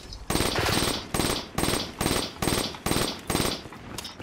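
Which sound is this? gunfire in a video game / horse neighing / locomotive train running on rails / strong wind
gunfire in a video game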